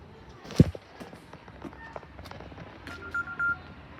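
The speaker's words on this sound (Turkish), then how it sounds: "Geride bırakılan telefon sesi." A Tesla's left-behind-phone alert sounds as one short, steady electronic tone, moderately faint over a noisy background, after an earlier dull thump.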